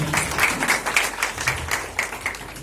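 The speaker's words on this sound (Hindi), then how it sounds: "जोरदार ताली अन्नू भैया के लिए" An audience at a guest-welcoming event applauds in a dense, steady patter of many hands, moderately loud and continuous throughout.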